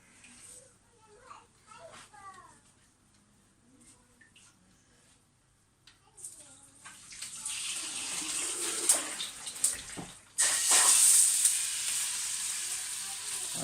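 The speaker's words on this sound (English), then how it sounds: "If you throw water straight into a hot pan, a small amount with fairy liquid, it cleans itself pretty much." Water thrown into a hot pan with a little washing-up liquid bursts into a loud, sustained sizzle and hiss that swells after a quieter stretch of kitchen sounds and children's voices in the background.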